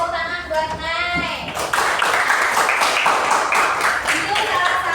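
A primary-school class claps for a student, starting with a teacher's voice and then a burst of brisk, close, fairly loud applause lasting a few seconds.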